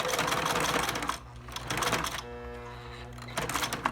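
A sewing machine stitches toward the end of a quilt, running in fast rhythmic bursts that stop briefly and then resume with a steady mechanical whir, close and fairly loud.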